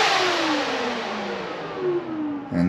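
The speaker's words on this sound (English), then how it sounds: "So we got working fans, and wow, those things are really powerful." Brushless dual radiator cooling fans on an LS-swapped Nissan 350Z let out a loud, steady rushing whir that runs throughout and slowly falls in pitch, then jumps back up near the end.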